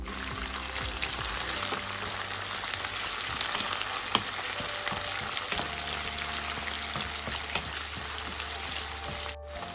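Steady crackling sizzle of onions and green chillies, then spinach, frying in a hot pan, continuous and close, with occasional faint clinks.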